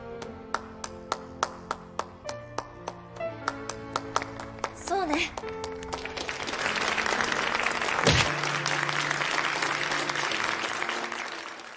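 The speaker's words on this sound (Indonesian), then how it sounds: "Sontak semua murid yang mendengar hal itu pun langsung tepuk tangan" Students at Shiritsu Bakaleya high school break into applause in a film scene: after a run of plinking, tapped tones, a wave of group clapping rises and holds, filling the room at moderate loudness.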